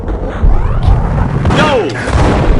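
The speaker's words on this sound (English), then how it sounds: "I thought it was a bomb for sure." An explosion booms in the Max Payne video game, a deep thud and rumble with crashing debris rolling on for a couple of seconds, loud and close.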